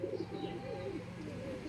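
A Madras pigeon of the Chennai breed coos softly in a repeated, rolling rhythm, faint and fairly close, with no talking over it.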